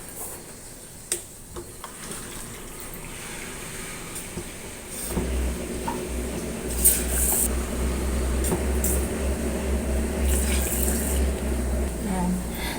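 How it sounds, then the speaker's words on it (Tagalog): Water is poured into a small cooking pot, a steady rushing flow that begins partway through and continues to the end after a quiet stretch with a few light ticks. "lalagyan na natin siya ng tubig ngayon"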